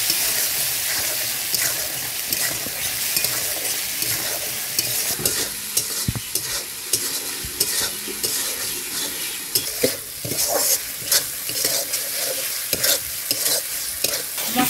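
Spice paste with chopped onion and tomato being sautéed and stirred in a pan for cauliflower korma, a steady close sizzle with repeated scraping stirs and occasional utensil clinks, no voices.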